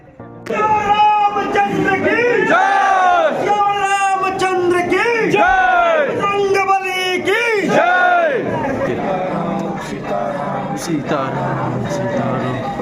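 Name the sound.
crowd of devotees at Hanumangarhi temple, Ayodhya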